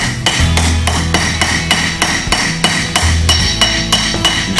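A hammer strikes hot steel on an anvil while setting the primary bevel of a knife blade, with about a dozen sharp, ringing blows in a steady, even rhythm.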